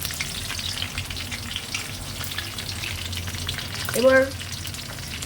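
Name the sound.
whole spices frying in oil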